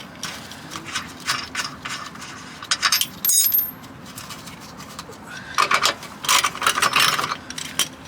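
Tight bolts on a Volvo V70 torque mount are broken loose with a wrench, giving sharp metallic clanks and ratcheting clicks in two bursts, close by, with a short gap between them.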